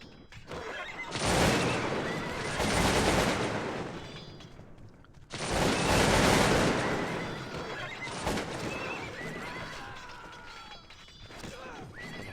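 Horses in the video game Cossacks: Battle for Europe whinny in two loud, drawn-out bursts, with sharp crashing noises mixed in, then quieter neighs trail off.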